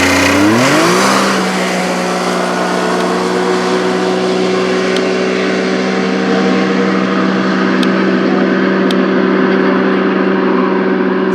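A car launches hard, engine pitch sweeping up quickly in the first second, then holds a loud, steady high drone as it speeds away.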